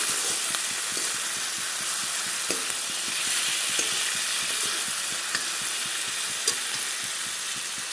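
Onions frying with garam masala in a hot pan, giving a steady broad sizzle with repeated scraping clicks from stirring, close and continuous throughout with no talk.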